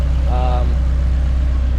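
An Acura RSX Type S K24A2 with drop-in cams, RDX injectors and a 3-inch exhaust idles with a deep, steady rumble, and a voice briefly sounds over it.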